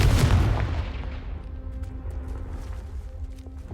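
A Confringo fire blast spell explodes in the video game Hogwarts Legacy, a single loud, close boom at the start that rumbles and fades slowly over several seconds.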